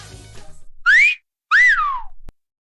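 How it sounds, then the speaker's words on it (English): A person gives a two-part whistle aimed at someone, a rising tone and then a longer rise-and-fall, loud and close, followed by a brief click after the earlier murmur fades. "Did he just whistle at me?"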